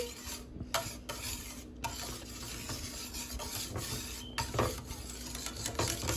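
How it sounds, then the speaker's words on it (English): A whisk scrapes and clatters steadily around a pot of gravy, giving a close, continuous metallic stirring with a few sharper clinks against the sides, and no voices. "Keep whisking that thing."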